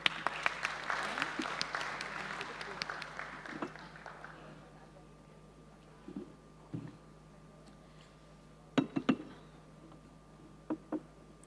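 At a road climate-resilience seminar, an audience applauds for a few seconds and the clapping fades out, followed by quiet room tone with scattered clicks and knocks and a faint steady hum.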